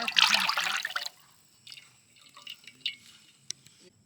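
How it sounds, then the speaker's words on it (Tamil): Cooking oil is poured into a frying pan to make onion bondas, giving a dense, liquid splashing rush for about a second, then only faint scattered drips and light clinks. "அதுக்கு எண்ணெய் ஊற்றிக்கலாம்."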